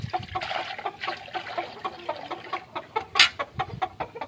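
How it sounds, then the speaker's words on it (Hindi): A small egg-laying hen in a Punjab village yard clucks in a steady series of short soft calls, close by, with faint trickling water and light background noise. "यार ये मुर्गी ना, ये देख सकते हैं, छोटी सी मुर्गी है, डेली का एग देती है।"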